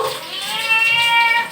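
A cat meows steadily while being bathed, one drawn-out plaintive cry lasting over a second, close and fairly loud.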